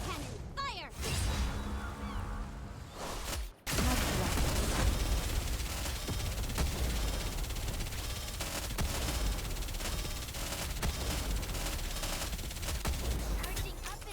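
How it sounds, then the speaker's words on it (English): A rapid barrage of cannon fire from the Aegis cannon in a video game, dense, loud and continuous for several seconds after a short pause, with rumbling blasts crowding together. "Aegis cannon, fire!"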